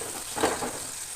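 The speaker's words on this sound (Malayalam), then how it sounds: "ഉള്ളിയൊക്കെ ഒന്ന് നല്ലോണം മൂത്ത് വരട്ടെ" Chopped onions fry in oil for a Kerala-style coconut rice dish, a soft steady sizzle with a faint stir in the middle, quiet and close with no talk.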